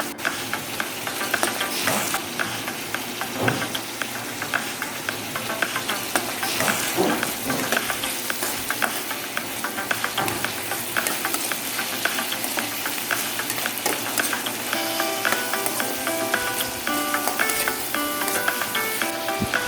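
Chopped chayote sizzles loudly in a hot pan as salt, MSG and black pepper go in, with a steady frying hiss broken by scraping stirs and clatters of the spatula throughout.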